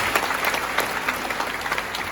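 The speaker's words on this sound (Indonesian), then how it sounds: "berikan tepuk tangan." A university audience breaks into brief applause at a talk, a burst of clapping from many hands that is dense and even.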